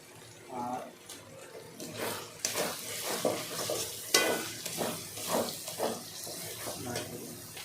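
Paneer masala being sautéed with a splash of water in a pan, a steady sizzle broken by repeated scraping stir strokes at close range, with a faint voice now and then underneath.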